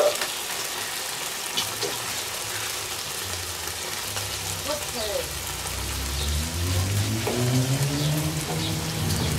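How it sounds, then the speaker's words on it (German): Baked beans bubbling and simmering in a breakfast pan on a grill, a soft continuous popping that rises slightly toward the end, with someone talking at times. "dann lassen wir die einfach mal noch ein bisschen vor sich hin brodeln"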